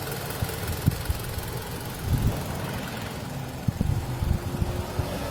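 A 2010 Mitsubishi Outlander's 2.4-liter four-cylinder MIVEC engine with 114,000 miles idles steadily, a low, smooth hum with a few small bumps and clicks, heard close by with no talking.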